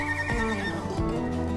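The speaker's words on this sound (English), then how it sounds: "Horses have been in the Menzel family bloodline for centuries." A horse gives a loud, close whinny, its wavering neigh rising and falling for about a second and a half.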